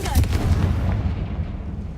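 A Confringo blasting spell bursts in the Hogwarts Legacy video game in a cave with spiders, a loud close booming blast with a heavy low rumble that decays over about two seconds.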